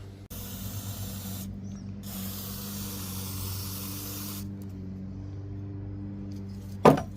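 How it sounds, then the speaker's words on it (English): Aerosol cleaner hisses through a straw nozzle onto the mass air flow sensor of a Suzuki X-90, several close steady sprays broken by short pauses, ending with a sharp clatter. "we're going to put the straw on it and hose it down real good, and then hose it down again"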